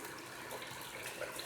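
Chicken stock pours from a cup into a pot of rice, a faint continuous splashing gush of liquid with no talking over it.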